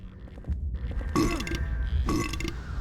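Enemies in the video game Silent Hill 4: The Room let out guttural burping noises, two loud, drawn-out belches over a low rumbling background.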